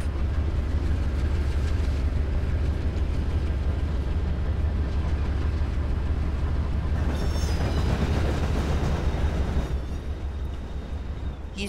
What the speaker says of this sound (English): But of course, freight trains don't stop.